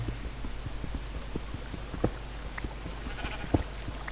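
Soft Minecraft sheep bleats sound a few times over a low steady background hum, short and fairly quiet, with no talking.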